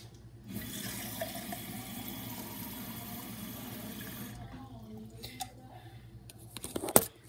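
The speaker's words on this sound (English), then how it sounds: "See how the water's running?" Water from a kitchen tap runs in a steady hissing stream for several seconds, then cuts off, followed by a few faint clicks and a sharp clatter.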